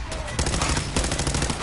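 Rapid gunfire in Fallout 4 during a fight near Paladin Danse, dense and loud shots running steadily through the whole short stretch.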